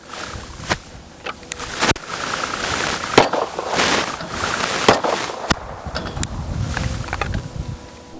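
Gunshots fired at big range targets during an outdoor range demo: several sharp cracks spaced irregularly over steady wind and outdoor noise, with no talking.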